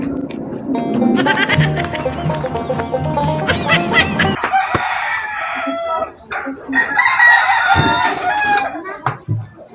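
A chicken crows and clucks loudly and close by, mixed with bleating animal calls and bursts of busy background sound, over nearly ten seconds.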